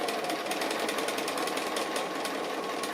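A sewing machine stitches a straight appliqué mouth line with a rapid, even mechanical chatter, close up and continuous throughout with no voices.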